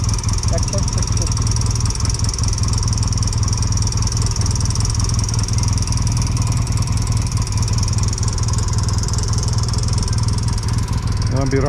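Restored 1978 Yamaha XS650 motorcycle engine running steadily and loud throughout while being ridden on the Tail of the Dragon mountain road, a continuous low rumble with voices talking over it.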